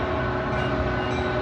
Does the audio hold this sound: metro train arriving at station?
yes